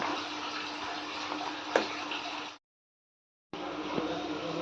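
Water boiling in a pot while rice is cooked for a chicken pulao gives a steady, close, bubbling hiss that cuts out briefly and then resumes.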